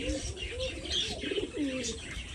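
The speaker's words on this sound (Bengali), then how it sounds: "কবুতরগুলো মাশাআল্লাহ নতুন জায়গায় আইসে ভালোই অ্যাডজাস্ট হয়েছে।" Pigeons settling into a new village loft coo softly in short, rising-and-falling calls, with faint chirps and a low background murmur.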